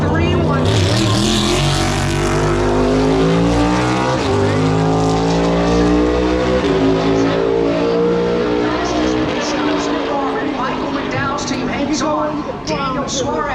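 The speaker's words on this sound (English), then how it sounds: "Daniel Suarez running a pit stop, and he'll go to the top of the leaderboard" NASCAR stock cars roar loudly past at North Wilkesboro Speedway during All-Star qualifying and pit stops, engines rising and falling in pitch as they pass, with a commentator talking over the racing throughout.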